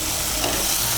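Turmeric, chilli powder and salt masala frying in a pan, a dense, even sizzle heard close and alone for a brief moment.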